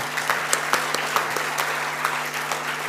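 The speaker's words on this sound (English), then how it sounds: "I think that deserves a huge round of applause." Audience applause at the annual general body gathering of NASA India, a national architecture students' association, hosted by IPS Academy School of Architecture: a dense, steady wash of many hands clapping together, fairly loud and continuous, with no voices over it.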